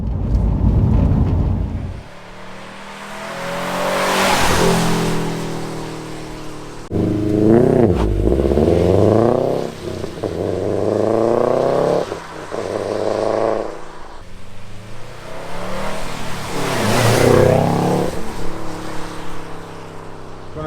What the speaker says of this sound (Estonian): Paneme siia vahele klipid sellest, kuidas ta kõlab, kui kõrgemate pööretega sõita kusagil natuke.